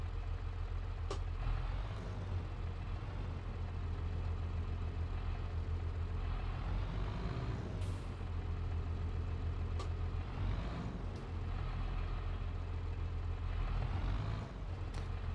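A tractor pulling a mower in Farming Simulator 22 drones with a steady low engine rumble throughout, close and continuous, with occasional brief hisses and clicks as it maneuvers into a shed.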